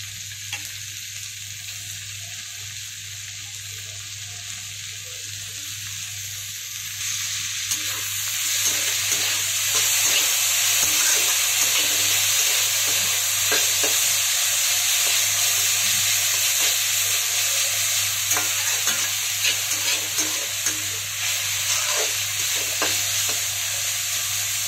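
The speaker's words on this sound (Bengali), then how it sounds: "এর থেকে বেশি আর ভাজবো না, যাতে কালারগুলো নষ্ট হয়ে যায়।" Vegetables stir-fry for chicken egg fried rice over a high gas flame, a loud, continuous sizzle with scraping stirring noises that swells after several seconds, above a steady low hum.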